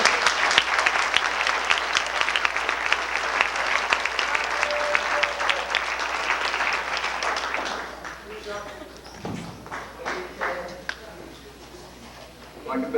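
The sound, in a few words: audience applause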